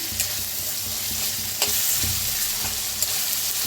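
Peanuts dry-roasting in a pan for a Maharashtrian varan phal, stirred with a steady dry rustle and scrape, a few sharper clinks standing out, close and even with no voices.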